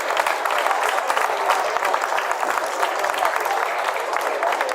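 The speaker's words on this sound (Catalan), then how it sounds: "Aquests aplaudiments en Bartolquim." A crowd applauds steadily at a sardana concert by a cobla band during a town festival in Girona, the dense clapping keeping an even, sustained level from start to finish.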